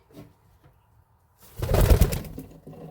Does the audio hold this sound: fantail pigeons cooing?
yes